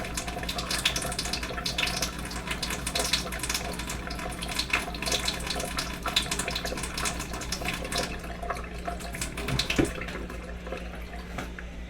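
Tap water running steadily into a sink while fingers are rinsed under it, a soft continuous splash with small clinks and handling noises, fairly faint and close.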